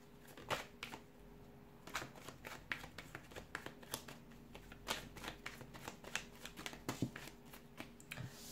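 A deck of tarot cards is shuffled close up in repeated bursts of crisp riffling and slapping, quiet and rhythmic, with no talking.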